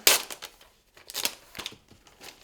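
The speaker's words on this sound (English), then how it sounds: "So let's remove the cellophane." Thin cellophane film being peeled and torn off a new Apple Magic Keyboard, a few quick crinkling rips and rustles in irregular bursts, close and fairly quiet, with brief pauses between.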